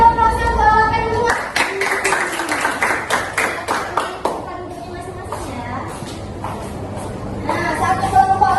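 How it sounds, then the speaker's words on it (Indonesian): A classroom group of university students gives a burst of clapping for a presenting group, rapid and loud at first, then thinning into scattered claps with voices and chatter over it. "Berikan aplaus yang bawakan semua"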